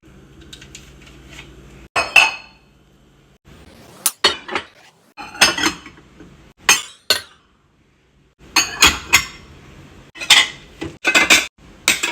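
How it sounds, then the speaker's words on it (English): Ceramic dishes and cutlery clink and clatter in a home kitchen as they are put away, in bursts of sharp knocks and rattles separated by short quiet pauses, close by with no talking. "I'm going to put all these dishes away."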